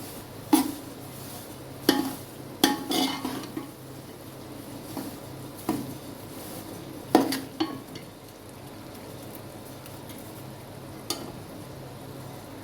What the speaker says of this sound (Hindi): हल्की आंच पर करेंगे ताकि सूजी अच्छी तरह घी में भुन जाए